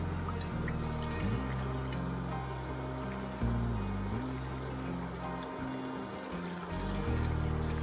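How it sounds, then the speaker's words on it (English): Chicken broth pours steadily into a pot of mushroom pasta, a soft continuous dribble and drip set against loud background music that carries on throughout. "So now we're going to add our chicken broth."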